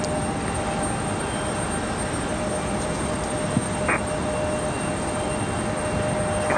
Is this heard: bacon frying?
no